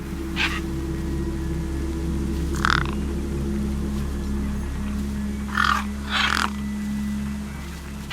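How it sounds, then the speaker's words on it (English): Birds caw in the sci-fi adventure game Beyond a Steel Sky, a few harsh calls scattered across a steady low hum of game ambience, squabbling over a feast. "No way I was going to get between those birds and their feast."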